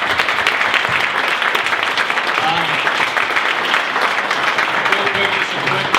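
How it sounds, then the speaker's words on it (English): A crowd at a business panel event on managing enterprise deals applauds the panelists, loud dense continuous clapping filling the whole span with faint murmur beneath. "Round of applause."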